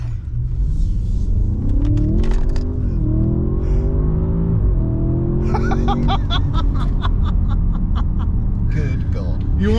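An Audi S8 engine growls and builds as the car accelerates, a deep rising rumble holding steady and loud under people talking and laughing inside the car.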